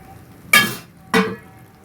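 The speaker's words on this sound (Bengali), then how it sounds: "পকোড়াগুলো দিয়ে দেবো।" Two sharp metallic clangs, a moment apart, close and fairly loud, as meat pakoras go into a pan while making gravy chilli chicken, with quiet background between them and no talk.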